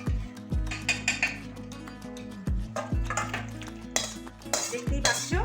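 Pointed gourd and potato curry is scraped out of a pot, with repeated ringing metal clanks of a spoon against the pot and wet scraping, close up and without speech.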